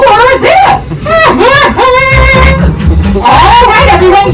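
A single voice imitates a train whistle with a series of rising and falling hooted tones, loud and close, repeated several times in quick succession.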